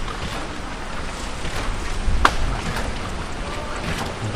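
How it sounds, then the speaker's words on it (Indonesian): Broad steady rush of water flowing out of a drainage channel, close and constant, with a brief splashy burst midway. "Ini pembuangan air, saluran air."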